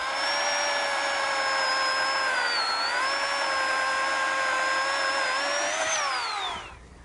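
An Oregon PowerNow 40V MAX battery chainsaw runs with a loud, steady electric whine, its pitch dipping briefly under load, then winds down sharply as the motor is released near the end.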